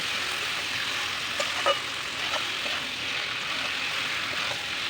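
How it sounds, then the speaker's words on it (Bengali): Raw jackfruit with masala stir-fried in a pan for a jackfruit, potato and chicken curry, giving a continuous close sizzle with occasional faint spatula scrapes and knocks, no speech. "এবার ইঁচড়টা ঢেলে দিয়ে আরও ভালো করে কষিয়ে নেব।"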